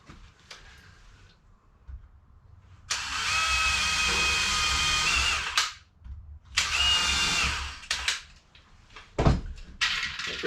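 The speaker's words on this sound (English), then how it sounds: "even though I'm pre-drilling the corners or the holes, I'm still putting the screws a little further back in" A power drill pre-drills screw holes in wood for a pantry build in a 2002 MCI bus conversion, with two close whirring bursts of about three seconds each followed by short clicks and handling knocks.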